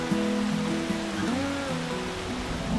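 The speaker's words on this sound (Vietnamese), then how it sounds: "Thôi chết, mưa rồi" Rain falls in an animated Vietnamese folk-tale cartoon, a steady, even hiss of downpour that stays constant throughout, moderately loud with a faint tonal background underneath and no voices.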